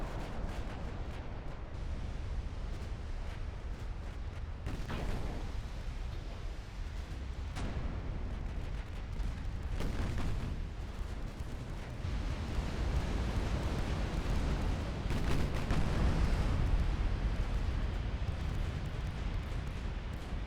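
Battleship guns fire during a naval battle in the strategy game Ottoman Campaign 1960 (Ultimate Admiral Dreadnoughts), producing repeated heavy booms over a continuous low rumble with no voices.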